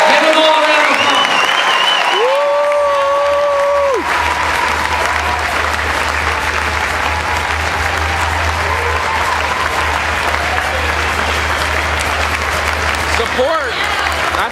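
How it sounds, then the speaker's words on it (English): An audience at a regional event gives a loud, sustained round of applause with dense clapping throughout. A voice speaks over it briefly at the start, and music plays underneath. "Give them all a round of applause."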